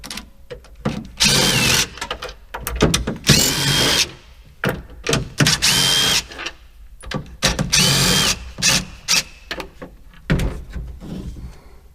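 A power drill removes panel screws on a Case 580 Super K backhoe, running in repeated loud whirring bursts separated by short pauses.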